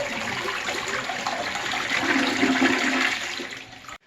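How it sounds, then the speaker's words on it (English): A toilet flushes in a single loud, close rush of swirling water that builds, then drains away and stops abruptly, with no voices over it. "And you want to flush the toilet."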